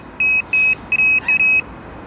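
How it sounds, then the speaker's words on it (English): Electronic fishing bite alarm on a roach rod rig with cage feeder, sounding four steady high-pitched beeps in quick succession, loud and close, with no talk. "the hanger pulls the line down over the roller that's inside the bite alarm"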